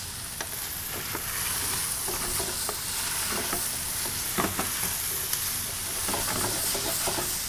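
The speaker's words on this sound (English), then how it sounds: "So we're gonna work those chipotles and adobo into this." Chipotles in adobo get stirred into a dish sizzling in a hot pan, a steady loud frying hiss with scattered scraping and clicking strokes from the stirring utensil.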